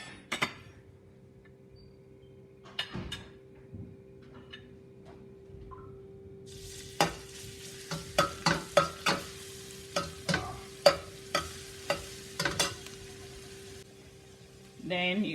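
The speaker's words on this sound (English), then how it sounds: "we're going to start by frying the garlic." Quiet sizzling of garlic frying in hot oil in a pan, with stirring clicks and scrapes that grow busier midway.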